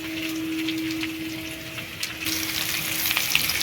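Ground spice paste hitting hot oil in a pan, a steady close sizzle and crackle that swells louder toward the end, with a faint hum underneath and no voices.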